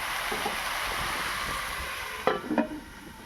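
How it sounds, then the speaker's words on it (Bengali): A prawn, carrot and capsicum chorchori with only a little water is stirred in a pan, giving a steady soft sizzle and scraping, with a few sharper spoon knocks near the end. "তো নেড়ে আমি এখন একটু ঢাকা দেবো।"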